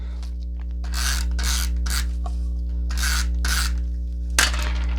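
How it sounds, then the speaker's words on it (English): An adhesive snail tape runner is run along the edges of a flower card, making several close, even raspy ratcheting strokes over a steady low mains hum. "you can take your snail, because that's the best part, and just snail all 4 sides."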